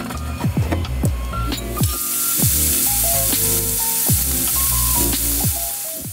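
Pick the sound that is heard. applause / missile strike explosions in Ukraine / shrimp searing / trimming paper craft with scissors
shrimp searing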